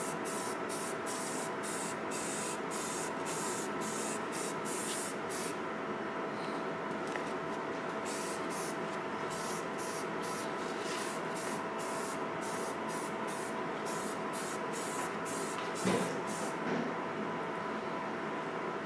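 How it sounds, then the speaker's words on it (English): A first coat of primer is spray-painted onto a street luge during an overhaul, a steady loud hiss of aerosol spray running almost unbroken for nearly twenty seconds, broken into short rhythmic pulses near the start. "that's first coat of primer"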